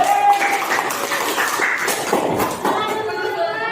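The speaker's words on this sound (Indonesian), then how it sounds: "kita kasih tepuk tangan dulu" Students in a classroom give a group a round of applause, a thick wash of clapping heard alongside a speaking voice throughout.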